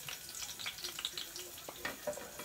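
Garlic frying in hot cooking oil inside a rice cooker for pork sinigang, a soft, fairly quiet sizzle with scattered crisp pops and light stirring scrapes, steady throughout and without talk.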